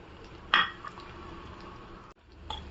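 A utensil scrapes and clinks against a pan while raw mango pieces are stirred with salt, red chilli powder and turmeric, with one sharp metallic knock early and softer scraping after, fairly quiet.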